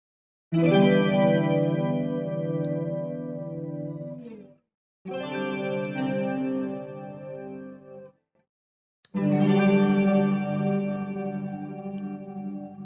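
Three sustained electric guitar chords ring out through EQ, octave pedal, shimmering chorus and trailing delay, each strum left to decay before a short pause, with no talking.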